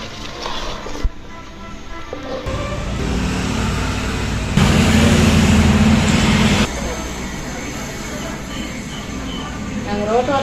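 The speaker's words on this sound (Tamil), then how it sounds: "பக்கத்துலேயே இருக்கிறதுனால வண்டினா போகுதுங்க அந்த சவுண்டு டிஸ்டர்பாக தான் இருக்குது" Vehicles pass on a road right beside a home kitchen, a steady broadband rumble that swells to a loud close pass mid-clip and then eases off, with faint talk in the background.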